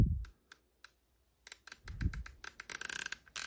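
Turret on a DiscoveryOpt HD Gen II 5-30x56 rifle scope being turned, sharp crisp clicks in quick rapid runs after a few isolated single clicks, close and clear with a soft thump or two of handling.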